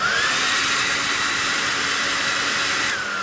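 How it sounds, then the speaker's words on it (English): Steady, loud whooshing roar of a hair blow dryer running continuously on its quiet setting, with a faint high whine riding on top and a brief shift near the end. "So here is my blow dryer."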